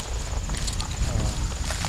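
A horse, once unbroken and trained on the road, walks with steady clip-clopping hooves, close by and under a voice.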